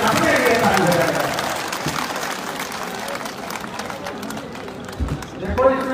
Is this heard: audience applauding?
yes